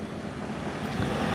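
Riding a motorcycle outdoors, a continuous rushing roar of wind buffeting the microphone with a low engine rumble underneath, steady and loud throughout.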